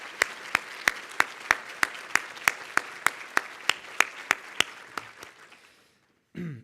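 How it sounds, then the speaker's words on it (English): Rhythmic applause at a fall convocation for new faculty, staff and students, crisp claps in a steady unison beat that fade out before a voice speaks. "So one more round of applause for our new faculty,"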